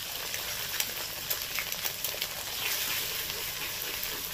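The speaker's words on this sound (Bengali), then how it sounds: "এর মধ্যেই দিয়ে দিচ্ছি। ডিমটাকে ভেজে নেবো।" An egg fries in a pan of mixed fried rice, a faint, steady sizzle with light crackling and nothing else over it.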